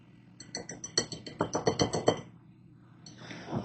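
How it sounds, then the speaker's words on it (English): Wire whisk clinking rapidly against a mixing bowl while flour, baking soda and salt are combined, a quick run of about fifteen bright metallic ticks, fairly close, then a pause and a faint soft rustle. "whisk together the flour, baking soda, and salt in a mixing bowl"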